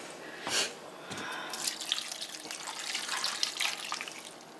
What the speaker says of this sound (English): We're going to add in a little bit of water.